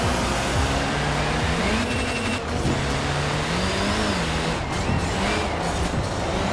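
A racing car engine in Forza Horizon 4, a rear-wheel-drive car, revs steadily and loudly throughout, its pitch climbing and dropping through shifts with a continuous close drone.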